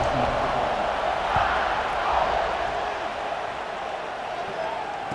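Steady stadium crowd buzz from EA Sports College Football 26 during a kickoff, a dense, continuous roar of many voices at even loudness throughout, heard alone without commentary.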